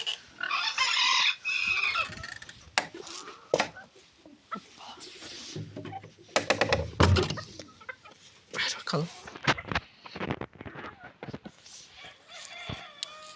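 Chickens cluck and squawk close by as they are fed, with a rooster crowing briefly, while people talk intermittently over the farmyard noise.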